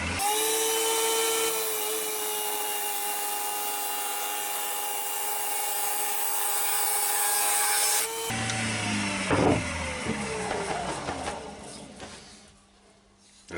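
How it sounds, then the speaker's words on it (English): A padauk bowl blank spins on a wood lathe while the face is turned off. A steady, loud tonal whine with a rasping scrape runs for about eight seconds, and rougher intermittent cutting and rubbing sounds follow. "I'm just going to face this off now so the walnut ring will sit on there."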